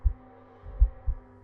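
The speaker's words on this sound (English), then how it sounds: "You feel your heartbeat." Heartbeat sound effect, three deep low thumps in a slow irregular rhythm over a faint hum, close and isolated.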